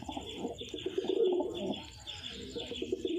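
A confirmed breeding pair of pigeons, one male and one female, coo in soft repeated rolling calls, close by and moderately quiet, with faint chirps in the background.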